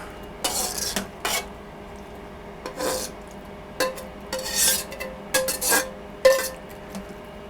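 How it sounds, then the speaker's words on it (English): A metal utensil scrapes and rasps against a wok during a beef and broccoli stir fry on an induction cooker fitted with a silicone cover, making irregular bursts of harsh scraping with short pauses, close and clear, with no talking. "That's such a weird feeling, scraping metal against my wok."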